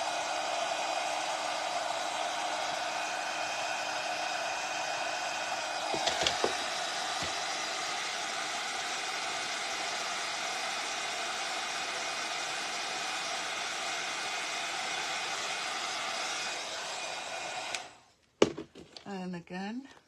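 A heat tool warms WoodUBend trim for bending onto an open-sided wood box, a steady hair-dryer-like blowing hiss held for about seventeen seconds before cutting off, with a brief clatter partway through.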